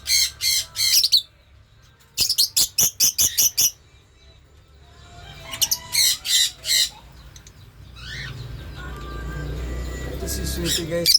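Cockatiels in a mini aviary, including an albino cock and a hen, let out loud bursts of rapid squawking calls, separated by quiet gaps, with softer chirps and rising background noise toward the end.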